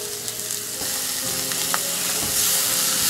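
Grated potato fries in a pan with a continuous, close crackling sizzle that grows slightly brighter toward the end, broken by a couple of brief utensil clicks, with no voices.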